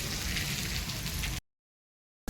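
Steady rain hiss, soft and constant, then a sudden cut to silence before a brief noise at the end.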